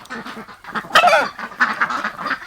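Geese and ducks honking and quacking together on a farm where chickens also live, a busy overlapping chorus of loud, close calls with one sharp burst standing out midway.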